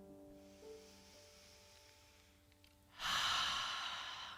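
A church congregation breathing in deeply and then exhaling during a guided moment at a Unity service, a soft hushed inhale followed by a loud, broad rush of collective exhalation.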